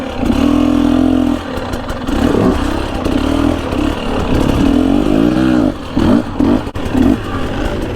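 A 2022 Gas Gas EC 250 dirt bike engine revs loudly and steadily up close, its pitch rising and falling through repeated throttle blips with clattering mechanical noise and no talk.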